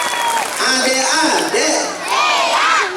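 Children applaud and cheer at a school Islamic New Year celebration, a dense wash of clapping and excited shouts filling the hall for three seconds while voices rise over it.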